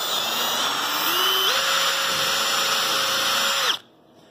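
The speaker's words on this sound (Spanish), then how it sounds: "le vamos a hacer la guía con la broca y el avellanador" A power drill with a bit and countersink bores a pilot hole in wood for a folding ironing-board chair, giving one continuous close whine that rises slightly in pitch midway and then stops abruptly.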